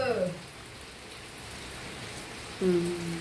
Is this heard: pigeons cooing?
no